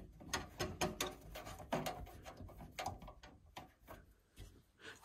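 Small screws being driven into a PC case to fix a motherboard, a run of close, quiet clicking and ratcheting turns with brief pauses between bursts.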